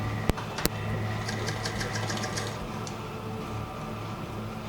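Sewing machine stitching Ankara fabric for a hair bow, a quiet continuous mechanical hum with a light rapid ticking, opened by two sharp clicks, close by.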